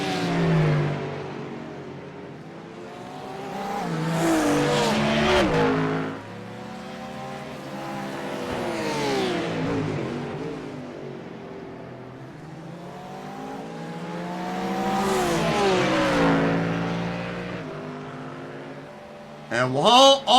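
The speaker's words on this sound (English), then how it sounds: "Meanwhile, Avery Walker starting to look for a way past the two cars ahead." GT3 race cars at the Mount Panorama circuit, engines rising and falling in pitch as they accelerate, shift and brake, loud and continuous over about twenty seconds, with a commentator talking over them.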